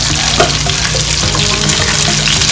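Butter chicken ingredients fry loudly in a pan while being turned and stirred, giving a dense, continuous close sizzle with occasional scraping knocks.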